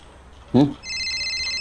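In a crime drama scene, a police officer's phone gives a steady electronic ring tone just after a brief spoken voice.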